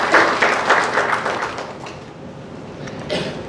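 An audience at a lecture gathering bursts into applause, a short loud round of clapping that fades within about two seconds, followed by a brief softer patter.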